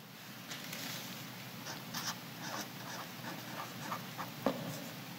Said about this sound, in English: I'll write on here pocket facing